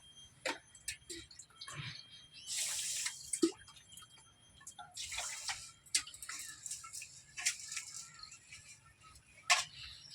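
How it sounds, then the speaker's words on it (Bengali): Thin-grained rice is rinsed in water by hand, giving faint, close, irregular splashes and drips with short watery swishes, heard quietly and alone. "প্রথমে আমি চালটা ভালো করে ধুয়ে তিরিশ মিনিট মতো জলে ভিজিয়ে রাখবো"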